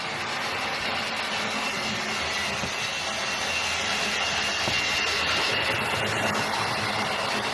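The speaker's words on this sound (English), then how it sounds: "Now what we'll do is we're going to run this locomotive in now." Lima GWR King Class model locomotive from the 1970s running on track over points, a steady close motor whine and rumble that holds at an even level throughout, heard alone.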